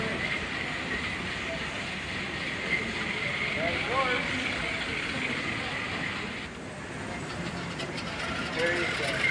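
A model train's digital idling sound at a model train show, a steady mechanical hum and hiss, continues evenly, with indistinct background murmur and a slight shift partway through.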